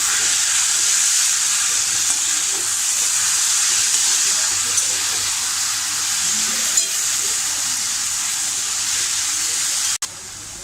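Drumstick leaves (shevga) are stirred and sautéed in a pan, giving a continuous, steady sizzle at close range with faint scraping, and an abrupt cut near the end.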